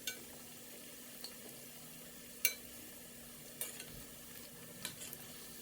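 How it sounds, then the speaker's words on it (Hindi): Veg Manchurian balls fry in oil over a medium flame, giving a quiet, steady hiss with a few soft clicks and taps spread through the stretch, no voices present. "अब हम इन्हें हल्के हाथों से पलट देंगे और दूसरी साइड से भी 3 से 4 मिनट के लिए मीडियम आंच पर तलेंगे"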